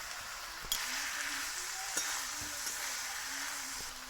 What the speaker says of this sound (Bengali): ভেজে রাখা আলুগুলোও দিয়ে দিচ্ছি এবার আমি ভালো করে কষিয়ে নেব